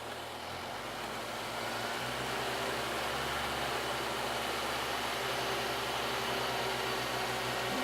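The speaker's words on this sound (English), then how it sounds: "you can hear the engine start to load down as the dynamometer controller opens the load valve on the water brake dyno" An engine runs steadily on a water brake dynamometer test stand. Its low, constant drone with tonal hum sits under broadband noise and shifts slightly in pitch as the load comes on, with no talk.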